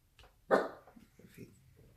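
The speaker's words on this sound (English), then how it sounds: "Sorry for the barking." One sharp, close dog bark followed by a couple of softer huffs and whines in a quiet room.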